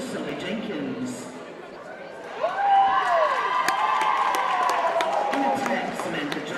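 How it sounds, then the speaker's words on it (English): A crowd at a women's 23-and-under netball grand final applauds and cheers as players are welcomed, with steady clapping, whoops and a rising cheer over a busy indoor murmur. "Start the applause rolling for Sally Jenkins."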